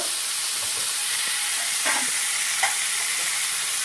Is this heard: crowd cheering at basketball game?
no